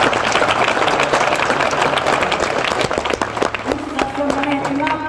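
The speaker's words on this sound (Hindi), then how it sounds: "उस सभी के लिए जोरदार तालियां होना चाहिए" Loud, dense clapping from a crowd at an anniversary gathering fills the space, with a steady wash of applause and a faint tonal hum and voices emerging near the end.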